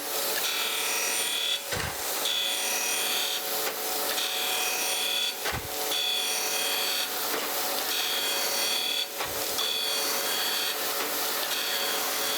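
Hand scraping a 9-inch cast iron straight edge casting produces repeated close, rasping scrape strokes in a steady rhythm. Brief low knocks mark the pauses between passes, with no talking.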